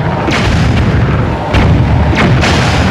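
Loud, dense booming and gunfire-like blasts rumble continuously in The Legend of Zelda: The Wind Waker as cannons are destroyed, several sharp cannon-like bursts standing out amid the chaotic battle noise.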